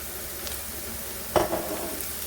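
Carrots fry with onion and garlic in hot oil, a soft steady sizzle broken by a brief stirring scrape and a louder hiss burst midway, close up and without talk.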